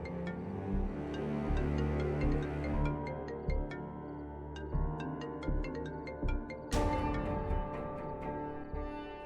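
A phone ringtone for an incoming call chimes in a steady repeating melodic pattern, clear and fairly loud, running alone for several seconds before a brighter burst near the end.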